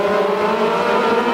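Race cars run bumper to bumper down the back straight of a track at a feature race, their engines a loud, steady, blended roar that holds without a break for the short stretch.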